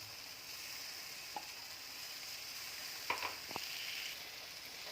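Paste made from two tomatoes goes into a hot pan and sizzles with a faint, steady hiss, broken by a few soft clicks and spatters.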